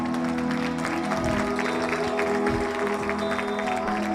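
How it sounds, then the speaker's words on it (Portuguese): A church congregation claps together during a worship service, a dense steady rattle of hands over a sustained low musical drone from instruments. "Aplauda o Senhor."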